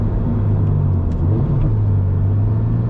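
A car engine hums close by, then briefly revs up and settles back down in a quick throttle blip while downshifting.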